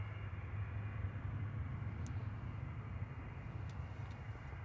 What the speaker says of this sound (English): Latest PC-24 on short final now.